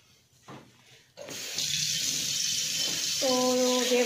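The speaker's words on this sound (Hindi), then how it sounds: "उसमें पानी डालना बेटा," Water pours into a container in a household kitchen, a steady rushing stream that begins after about a second and runs to the end, its tone rising toward the close as the vessel fills; faint voices and clatter come before it.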